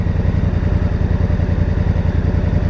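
A 2018 Honda Africa Twin DCT motorcycle engine runs steadily while riding, a loud, close, even throbbing drone with a regular pulsing beat and no voices.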